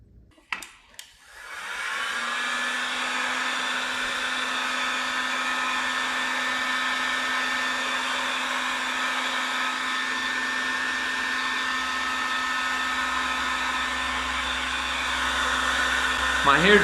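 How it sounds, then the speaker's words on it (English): Automotive blower tool used as a hair dryer on an egg-bound hen after an Epsom salt soak, starting with a few bumps then a loud steady whine that runs continuously, held at a distance. "My hair dryer broke, so I'm using this automotive tool."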